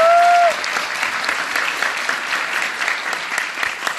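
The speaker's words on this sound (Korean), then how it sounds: "여러분 스스로 위해서 박수 한번 주십시오." Lecture audience breaks into steady applause right after a brief tone at the start, the clapping dense and continuous at a moderate level to the end.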